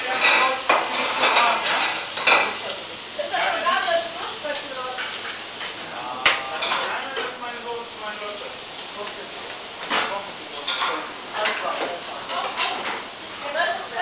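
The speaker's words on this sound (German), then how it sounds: "Ich tausche schmutzige Teller gegen was Leckeres zu essen." Dirty plates and cutlery clatter and clink repeatedly at a lively outdoor celebration, close and fairly loud, with voices chatting throughout.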